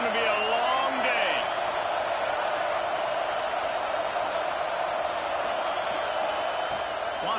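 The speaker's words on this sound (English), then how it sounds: "This crowd, full throat, splitting the eardrums and letting him know it's going to be a long day" A packed college football stadium crowd at an FSU versus Auburn game roars in a steady, loud, unbroken wall of noise, with a commentator talking over it.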